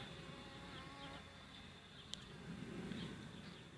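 Honeybees buzz around an artificially inseminated, inbred Buckfast queen of the B21 line as they cluster to warm her; a steady, close hum continues throughout with no talking.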